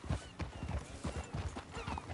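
Horse hooves clip-clop at a steady trot while riding in the Red Dead Redemption 2 video game, rhythmic, fairly close and moderately quiet, with a faint whinny.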